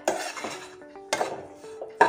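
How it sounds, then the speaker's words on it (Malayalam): A spoon scraping and knocking against a pan in three distinct bursts as wheat flour, coconut and ghee are stirred and roasted on low heat, with metallic ringing between strokes, close and without talk. "നമുക്കിത് നല്ലപോലെ മിക്സ് ചെയ്ത് റോസ്റ്റ് ചെയ്തെടുക്കാം"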